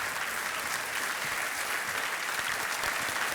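Studio audience applause at an Indian television quiz show, a steady dense clapping that stays loud and even from start to finish with no voices over it.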